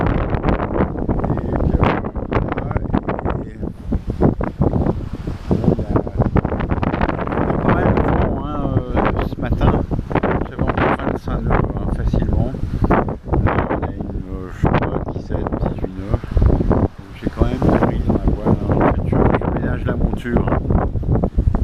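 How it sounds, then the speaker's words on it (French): A sailboat running dead downwind under mainsail alone on a solo transatlantic crossing, with continuous heavy wind buffeting and rushing water noise filling the whole stretch, loud and close. "le bateau avance, hein, on est sous grand voile, tout simplement parce que voilà, parce qu'on est vraiment vent arrière"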